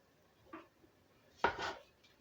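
A spatula scrapes butter from the sides of a mixing bowl during home baking, two short scraping strokes close by, the second louder and longer, in an otherwise quiet kitchen with no talking.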